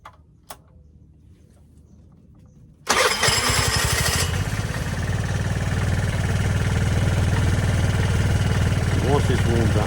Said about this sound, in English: I just want to start this bike up, warm it up